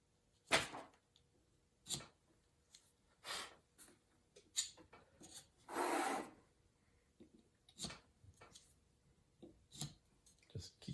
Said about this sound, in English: screwdriver or any other device that you can kind of scrape that glue out